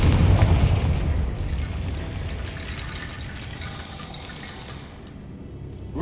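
A booming blast from the fire spell Confringo in the video game Hogwarts Legacy, a loud low burst up front that rolls into a long rumbling, rushing decay before cutting off.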